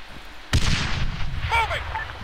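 A grenade blast in Arma 3 erupts sharply and lingers with rumbling decay, followed by scattered gunfire cracks in the background during an infantry firefight, with a voice calling out over the noise.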